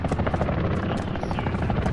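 A helicopter in a Modern Warfare multiplayer match: a loud, close, continuous rotor chop with a rapid pulsing thump and a buzzing whine.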